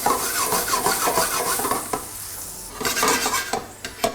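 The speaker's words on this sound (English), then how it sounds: "To the tofu, I'm going to add 1/4 cup of just almond milk and stir that in." A utensil stirs almond milk into scrambled tofu in a pan, making a rhythmic scraping and wet swishing close up, with repeated strokes and brief clinks against the pan and no talking.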